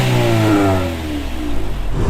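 Engine of an EM1 Honda Civic Si revving as the car pulls away, a steady mid-pitched drone that dips briefly and then rises again, heard up close.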